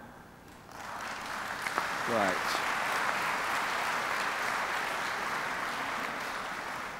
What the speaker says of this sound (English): please can you applaud now?